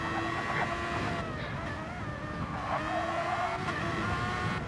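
A race car in a racing video game slides and scrapes into a wall, with tire squeal and engine whine rising and falling over a few seconds, close and fairly loud, with no voices.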